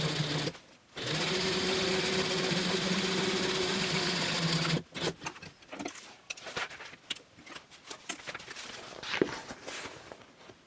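A sewing machine stitches a fabric book bag to its spine in a steady, loud whirring run of about four seconds, then stops, followed by irregular handling clicks and rustles of the fabric.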